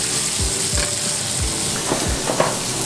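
Steak frying in garlic butter in a pan, a steady hissing sizzle with a few soft low thumps and scrapes of basting throughout, close and continuous with no talking.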